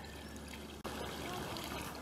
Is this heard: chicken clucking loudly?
no